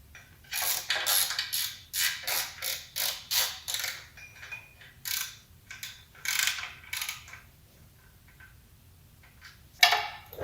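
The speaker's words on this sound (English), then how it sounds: "And then I'm gonna tighten that one up and then tighten all these down." A ratchet wrench tightens bolts on the cam housing of a Porsche 944 during front crankshaft seal work. A series of loud, close ratcheting clicks comes in bursts, pauses, resumes and ends with a sharp metallic clank.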